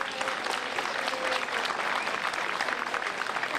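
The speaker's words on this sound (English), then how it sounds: "Please give them a round of applause." Steady crowd applause fills the street at a Memorial Day parade, a dense, even clapping from many hands close by, sustained without a break.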